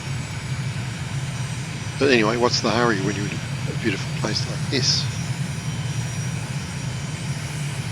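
A light propeller airplane cruises at about 80 knots over the Bahamas' Berry Islands, its engine a steady, low, continuous drone heard from inside the cabin while someone talks over it.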